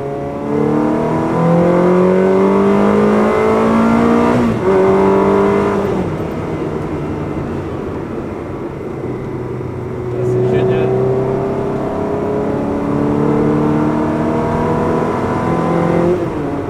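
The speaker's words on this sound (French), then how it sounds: "on va se faire une petite accélération avant d'arriver" Ferrari 360 Modena engine revving through gears while accelerating, a loud, close rising whine repeated several times with brief dips at shifts, and a voice speaking over it.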